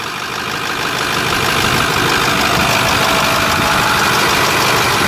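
A 2010 Ford F550 Super Duty's 6.4 liter Powerstroke turbo diesel V8 idles loud and close, a steady dense rumble with a broad hissing rattle and no talk.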